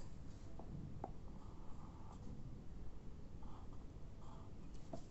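Handwriting letters with a pen or marker on paper during a kindergarten English lesson, quiet short scratchy strokes in a few separate bursts, close and faint with no talking.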